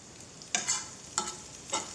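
Food sizzles in a frying pan, a close, steady hiss broken by three sharp bursts of crackling as it is stirred.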